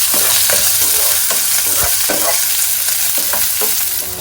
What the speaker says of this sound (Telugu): chopped green chillies and 1 medium size of onion తీసుకొని మంచిగా ఫ్రై చేసుకోండి